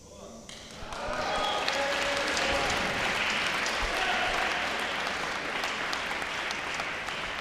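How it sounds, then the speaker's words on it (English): Applause swells from the audience after a lift at a Paralympic powerlifting World Cup in Dubai, a loud, sustained clapping that rises quickly and holds steady, with a commentator speaking over it. "Plenty of applause for that lift."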